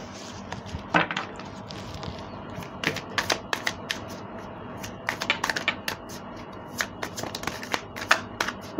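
Tarot cards shuffled by hand in irregular bursts of quick riffling snaps and soft slaps, close and fairly crisp, with brief pauses between flurries and no talking.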